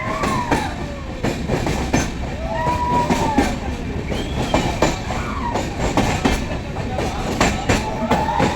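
A train rolls along the Sakleshpur railway line through Karnataka's hills, loud and near. Wheels clatter in a steady clickety-clack and high wheel squeals rise and fall, with no talking.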